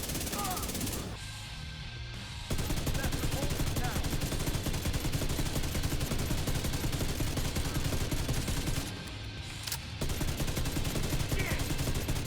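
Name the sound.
Ravenous exotic rifle firing full-auto in video game The Division 2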